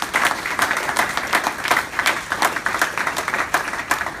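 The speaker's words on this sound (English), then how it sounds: "round of applause for Megan." A modest audience gives a round of applause with distinct, rhythmic claps from a smallish crowd, close and fairly even throughout the clip.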